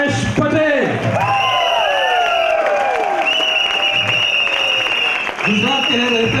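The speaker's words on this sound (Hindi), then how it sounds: "जोरदार तालियों से स्वागत कीजिए" An audience claps and cheers loudly to welcome a speaker at an event in Mumbai, dense continuous applause with a few whoops, over a sustained electronic tone and brief voices at the start and end.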